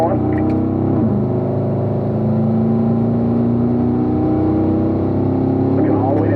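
A race car accelerates at full throttle, its engine note climbing steadily through the revs with gear changes near the start and end, loud and close, with a voice talking over it.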